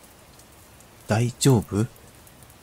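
Rain falling on the ground in a visual novel game, a soft, even hiss running throughout, with a voice briefly speaking over it in the middle.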